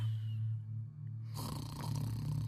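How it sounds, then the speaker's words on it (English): Low, steady snoring drones through the opening, then a broader rustle of noise takes over partway through; no talking. "He is snoring in his bedroom."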